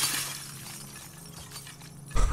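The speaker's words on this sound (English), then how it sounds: "I can break any glass I want." Glass shattering in The Last of Us Part 2, a bright burst of breaking shards at the start that fades, followed by quiet game ambience and a low thud at the end.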